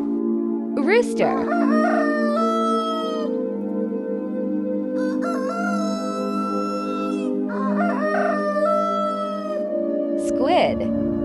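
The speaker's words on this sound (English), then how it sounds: "Rooster." A rooster crows in a drawn-out cock-a-doodle-doo, with a few separate crowing calls spread across the clip over a steady tonal background bed.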